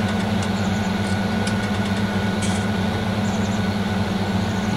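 A mega tractor idles steadily in Farming Simulator 19, a constant low engine drone with a faint hum and no speech over it.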